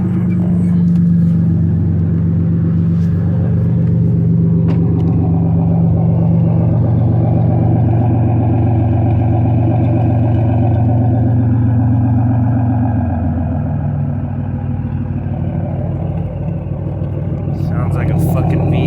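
A 2001 Pontiac Grand Prix running with a straight-piped exhaust and no catalytic converter, a loud steady idle rumble holding evenly throughout with a faint shift in tone partway through.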